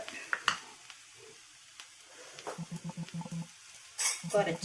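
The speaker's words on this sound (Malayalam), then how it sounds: "ഇതിൻ്റെ പച്ചമണം മാറണ വരെ നമ്മൾ ഇതൊന്ന് ഇളക്കി കൊടുക്കണം" Okra fry is stirred in a pan after chilli powder and turmeric go in, with a soft sizzle, scattered spoon scrapes and metal clinks, and a run of rhythmic knocking taps near the end, close and fairly quiet.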